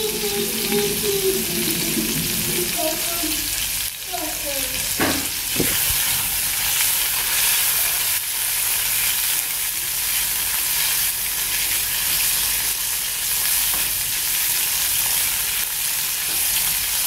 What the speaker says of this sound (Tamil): இப்போ இதில் வந்து நான் இந்த ஸ்கின் எல்லாம் வந்து போடுறேன். இது வந்து லைட்டாக வந்து ஃப்ரை ஆகட்டும்.